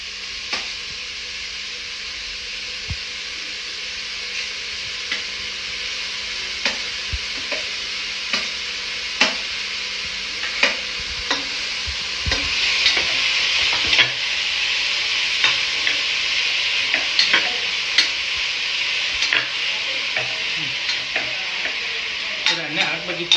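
Chopped carrots stir-fried in a pan for a chapati veg roll, a steady close sizzle with repeated sharp scrapes and clicks of a spatula stirring, the frying growing slightly louder partway through, no talking.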